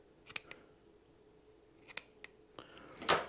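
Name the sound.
scissors cutting thread while tying a crappie jig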